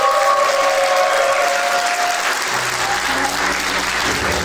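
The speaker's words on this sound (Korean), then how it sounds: "여러분 축하의 박수 부탁드립니다." Wedding guests applauding in a hall after the marriage is declared, a loud continuous burst of clapping from the whole room, with a low musical tone coming in partway through.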